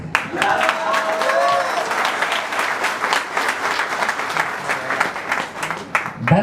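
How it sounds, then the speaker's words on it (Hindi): An audience at a speech event in Ahmedabad, Gujarat applauds in a steady, dense patter of many hands clapping, moderately loud and sustained for several seconds before tapering slightly. "मुझे केवल ताली वाली आवाज ही पहचान में आती है।"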